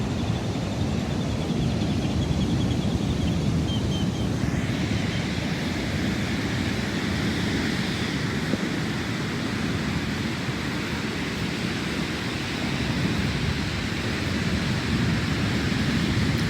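Pacific Ocean waves washing onto a beach on the southern coast of Oaxaca, Mexico, a continuous broad roar of surf with gentle swells, steady and fairly loud, no talking.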